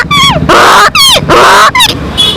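A young boy imitates a donkey's bray with his voice: three loud, strained calls, each a rising whine that breaks into a harsh, rasping gasp, close to the microphone.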